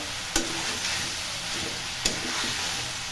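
Meat for biryani fries in its own released oil on full heat, a steady close hiss and sizzle broken by two sharp clinks of a stirring spoon against the pot.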